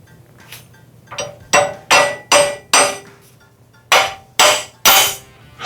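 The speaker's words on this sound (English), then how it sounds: "he just was able to hammer the studs out" Wheel studs being hammered out of a 1957 Chevy hub: eight loud, ringing metallic blows in two uneven bursts with short quiet gaps between them, close up and with no talking.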